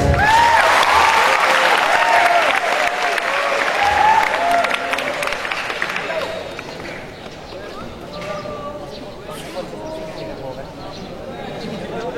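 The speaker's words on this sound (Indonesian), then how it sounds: "Bisa kasih tepuk tangannya ya" An audience breaks into loud, dense applause during a school ceremony for a visiting district military commander in Pekanbaru. The clapping is strongest at first, then eases into steadier, softer clapping with faint voices underneath.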